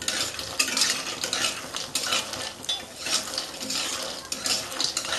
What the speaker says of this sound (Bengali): বড়িটা আমি বেশ ভালো করে ভাজবো।